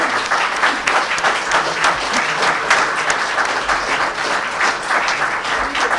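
Sustained applause from an audience, dense clapping that stays steady and loud throughout.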